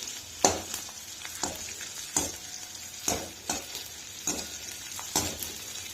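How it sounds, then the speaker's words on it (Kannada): Edible gum frying in hot ghee, a continuous sizzle broken by regular stirring scrapes that land roughly once a second, close and fairly loud with no talk. "ತುಪ್ಪ ಬಿಸಿ ಆದಮೇಲೆ ಅದರೊಳಗೆ ಅಂಟು ಹಾಕ್ಬೇಕ್ರಿ. ಅಂಟು ಹಾಕಿ ಕರಿಬೇಕ್ರಿ."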